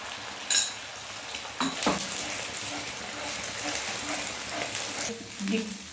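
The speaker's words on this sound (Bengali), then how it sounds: "এবার সর্ষের তেল দিয়ে নিলাম এবার ডিমের গোলাটা দিয়ে আমি ভুজিয়া ডিমের ভুজিয়া তৈরি করে নেব" Beaten egg mixture hits hot mustard oil on a nonstick tawa for egg bhujia, giving a continuous close sizzle. Occasional scrapes and clinks of a utensil stir through the crackle.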